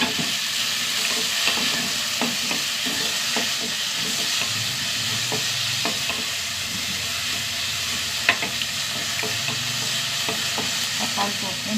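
Small shallots sauté in a pan with a continuous moderate sizzle, punctuated by repeated clinks and scrapes of stirring, including one sharper knock, with no talking.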